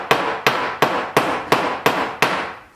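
Seven sharp, evenly spaced hammer blows strike a metal piece resting on a steel block, each a bright ringing clang with a short decay, close and alone with no talking.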